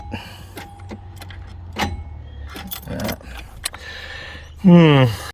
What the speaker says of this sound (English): That starter doesn't want to crank that motor, does it?